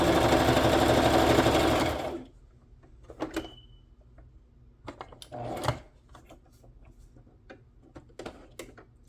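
A sewing machine stitches a handmade journal cover and signatures in a loud, fast, continuous burst for about two seconds, then stops, leaving sparse clicks and small handling knocks.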